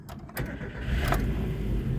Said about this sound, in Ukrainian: так заводиться, як спірт машинка взагалі